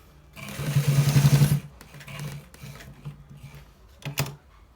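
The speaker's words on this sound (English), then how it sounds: "So guys, we are stitching it" A sewing machine stitches a shirt collar in a fast buzzing run of needle strokes lasting about a second, followed by short, quieter bursts and clicks of fabric handling.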